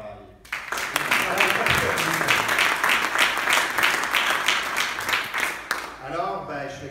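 An audience at a memorial tribute event breaks into sustained applause, a dense wash of clapping that starts abruptly, holds steady, then fades as a voice begins speaking.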